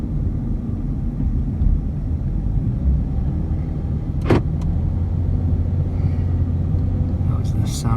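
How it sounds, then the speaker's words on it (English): Car door locks engage with a single short mechanical clunk inside a car, heard over the steady low rumble of the engine and road. "That was the sound of the doors finally locking."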